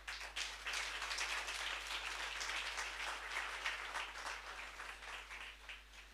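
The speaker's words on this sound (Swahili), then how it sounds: "makofi ya Yesu sasa" Sustained applause from a church congregation during an all-night Church of the Lord mega kesha service at the Kanyenya-ini branch, dense clapping running steadily through the whole stretch with slight swells and no voices above it.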